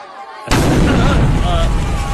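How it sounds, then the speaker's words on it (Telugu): A sudden loud blast cuts in after a quiet moment, followed by a sustained crackling, rumbling roar typical of a firecracker going off nearby. "ఈ బాంబులు వెంటే నాకు భయం నీకు తెలుసు కదా"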